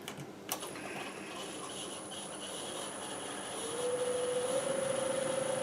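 A wood lathe spins a green apple bowl blank at 725 RPM with a soft, steady whirring drone. A thin, high whine rises out of it partway through and keeps going.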